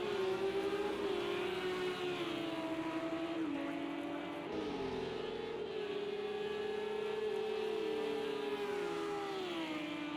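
Race cars roar steadily along a track at a sustained high pitch, the engine note rising and dipping through gear changes as they run close together, with no talk over them.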